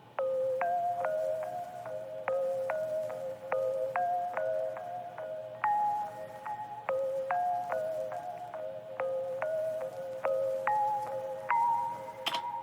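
Filtered synth pluck melody made in Serum, a bright, softened line of short repeating notes in a steady rhythm over a low sustained bed, with a rising note at the end.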